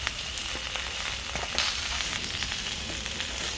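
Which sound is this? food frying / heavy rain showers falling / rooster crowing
food frying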